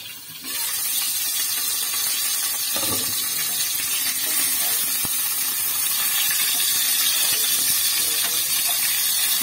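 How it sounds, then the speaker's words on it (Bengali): Chicken momos frying in a pan while being pressed down, a loud continuous hissing sizzle starting abruptly and holding steady throughout. "চাপা দিয়ে দিয়ে এটাকে ভেজে নেব।"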